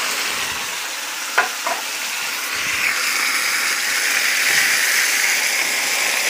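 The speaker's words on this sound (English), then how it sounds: "Stir that up. Try to get all those bits and pieces off of the bottom." Campbell's Golden Mushroom soup is stirred in a hot pan that was used for pork medallions, with the browned bits scraped off the bottom. It makes a steady close hiss and bubbling sizzle with a couple of brief utensil taps.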